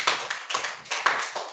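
A classroom of young students clapping for a classmate during a general knowledge quiz, a short burst of several quick claps, close and fairly loud.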